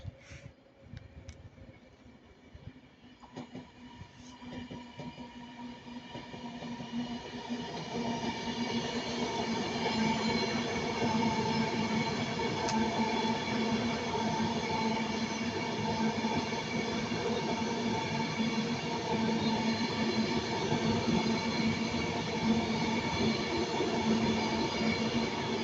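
TransPennine Express unit 391-1 passing at Ardwick, Manchester, on the line to Piccadilly, building from a distant approach to a loud, sustained rumble with steady rail noise and wheel squeal, no voices.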